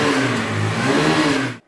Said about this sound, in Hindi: तो एंड करने से पहले इस बीस्ट का इंजन साउंड आप लोग चेकआउट कीजिए